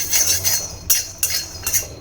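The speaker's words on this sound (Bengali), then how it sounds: "বাদামটা দেখো একটু নেড়ে নিচ্ছি।" Peanuts being stirred in a pan with a metal utensil on a home stove, giving a few light scraping, rattling clinks in short bursts, close by and moderately loud.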